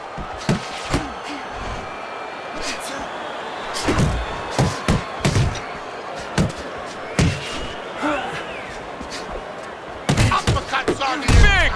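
Boxing punches land in Fight Night Champion as sharp, heavy thuds, scattered singly and then in a rapid flurry near the end, under a commentator's voice and crowd noise.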